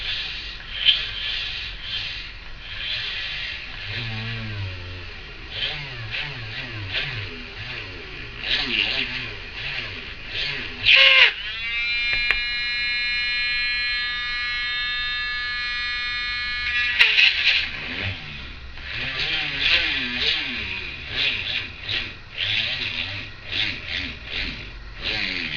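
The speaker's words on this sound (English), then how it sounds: "And drill right through the resin into the can." A power drill bores through hardened resin into a recycled can for a keychain: a steady, high buzzing whine lasting several seconds, set between stretches of nearby talking.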